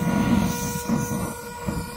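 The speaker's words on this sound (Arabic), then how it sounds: "البراد اللي يصيح، صوت هذا حق البراد." A kettle whistles on a portable camping gas stove, a steady thin high tone above the low, pulsing roar of the burner flame, heard up close with no talking.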